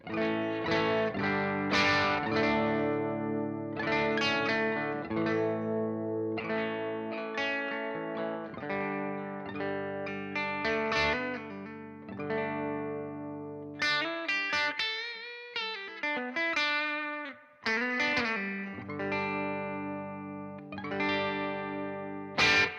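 Electric guitar with a clean, lightly effected tone plays chords and melodic lines at moderate volume for an extended stretch, with no talking.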